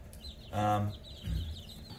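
Young chicks housed under tanning lamps on a farm give a close, loud squawking cluck, then a lower second call, over a faint steady hum and soft peeping.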